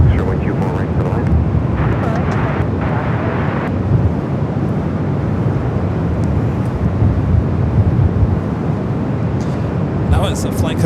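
An Alaska Horizon airliner from SFO approaches LAX in gusty wind, its jet roar a loud, continuous rumble with blustery wind noise, while radio chatter and a voice talk over it.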